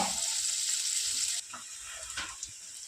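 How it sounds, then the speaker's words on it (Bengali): Green beans, capsicum and peas fry in hot oil, a bright close sizzle that drops abruptly midway to a quieter crackle with scattered pops and stirring. "বিনস আর ক্যাপসিকামটা একটু ভাজা করে নিয়ে তাতে আমরা মটরশুঁটিটাও দিয়ে দেবো"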